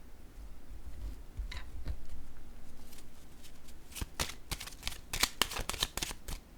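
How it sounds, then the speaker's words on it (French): Tarot cards being handled and laid on a table, soft rustling and shuffling early on, then a quick series of sharp, close taps and snaps as cards are placed down. "Je vais déposer une carte sur"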